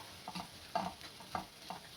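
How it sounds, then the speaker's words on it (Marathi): Spice masala being stirred in hot oil in a pan, quiet rhythmic scrapes of the spoon repeating over a soft sizzle, close and without talking. "हे चांगला मसाला मिक्स करून घ्यायचा आहे हे तेलामध्ये"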